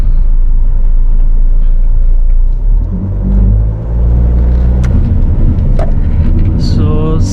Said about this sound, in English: So once again let's launch the car and see the performance again.